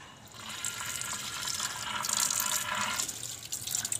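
Water runs and splashes steadily from a tap while clothes are washed with water and a brush, a continuous hiss at moderate level without speech.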